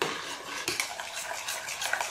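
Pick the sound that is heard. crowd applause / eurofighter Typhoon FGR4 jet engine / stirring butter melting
stirring butter melting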